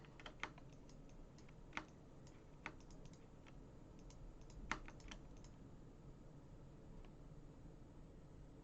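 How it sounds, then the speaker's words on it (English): Sparse, quiet clicks, consistent with a computer mouse, sound at irregular intervals over a low steady hiss, a handful of sharper taps standing out, with no speech. "I guess I can stop clicking randomly."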